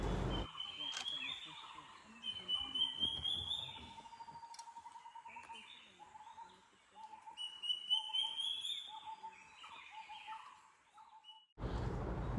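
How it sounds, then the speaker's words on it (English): Wild birds calling in jungle at Kaziranga National Park, a mix of clear whistled notes, chirps and trilling songs, some near and some farther off, layered over one another with a brief louder burst near the end. "The last safari surprised us with wonderful bird calls in the jungle."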